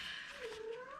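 A house cat lets out one drawn-out, wavering meow, close but faint, in a quiet room.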